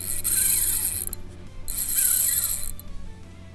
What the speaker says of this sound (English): This reel sounds so good too. It's such a nice drag.